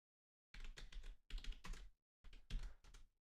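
Computer keyboard typing in three short, quiet bursts of rapid key clicks separated by brief silences, close by with no voices.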